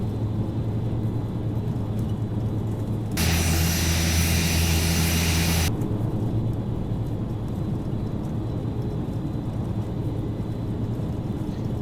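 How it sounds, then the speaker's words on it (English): ATR 72 turboprop engines spooling to takeoff power in a flight simulator game, a steady loud propeller drone with a brighter, louder surge in the middle and no one speaking. "Takeoff power set."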